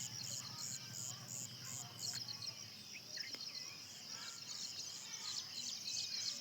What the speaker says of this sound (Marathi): पक्ष्यांचा आवाज येत आहे एकदम छान.